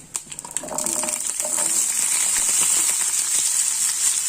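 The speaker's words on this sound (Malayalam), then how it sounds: "ഇത് ഇങ്ങനെ നല്ലതുപോലെ വഴറ്റിയിടുക അപ്പോൾ നമുക്കിത് നല്ലതുപോലെ ഇങ്ങനെ ഇളക്കി കൊടുക്കണം" Coconut pieces, onion and curry leaves hit a hot pan with a few sharp clatters, then settle into a loud, steady sizzle close by, with no voices.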